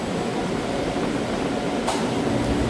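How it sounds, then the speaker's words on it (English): A cooling fan blows steadily in an elevator machine room housing Otis/TKE TAC50 traction machines, a loud, continuous broadband rush of air with no talk over it. "there's a cooling fan blowing in here"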